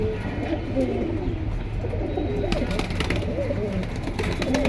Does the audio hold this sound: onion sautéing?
no